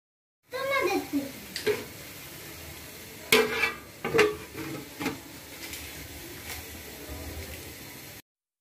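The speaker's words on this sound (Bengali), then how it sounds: "তো আমি কষিয়ে নিচ্ছি আস্তে আস্তে।" Beef curry masala being stirred and sautéed in a pot makes scattered spoon scrapes and clanks over a faint sizzle, and a person talks throughout.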